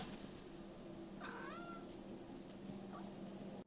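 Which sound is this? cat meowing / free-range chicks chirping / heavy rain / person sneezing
cat meowing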